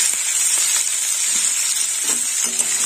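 Broad beans and potatoes drop into hot oil tempered with spices, giving a loud, steady sizzle and hiss of frying that continues without pause, with faint stirring clinks underneath.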